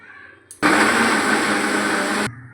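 A mixer grinder whirs loudly for about two seconds as it grinds dry semolina into a paste, starting abruptly after a short click and cutting off just as suddenly.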